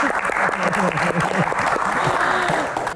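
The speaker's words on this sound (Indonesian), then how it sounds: "Tepuk tangan Mbak Gian." A room full of people claps steadily and warmly at a Q&A session in Indonesia, a sustained burst of applause with a voice faintly audible beneath it.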